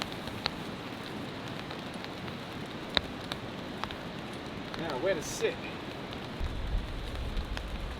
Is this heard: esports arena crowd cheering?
no